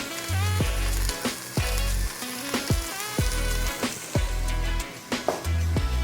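Onions and garlic with salt and pepper sautéing in a pan for Caribbean peas and rice, a loud continuous sizzle broken by short clattering stirs and scrapes, with no talking.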